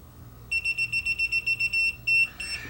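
Brought close to a live wire, a Tesmen TCM300D clamp multimeter sounds its non-contact voltage alert as a rapid run of about ten high, piercing beeps, then a longer tone, close and clear over faint background.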